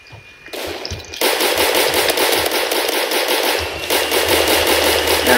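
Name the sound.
automatic gunfire from a gun in the video game Roblox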